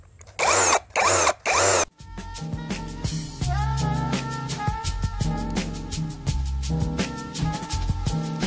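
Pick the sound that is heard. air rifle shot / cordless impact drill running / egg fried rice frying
cordless impact drill running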